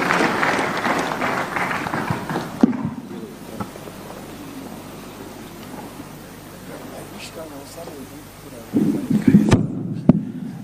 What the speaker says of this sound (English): Let's put another round of applause, please, for our panelists